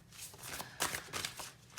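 Large tarot cards being shuffled by hand, a steady papery riffle and slide for under two seconds with a few sharper flicks, close and moderately quiet.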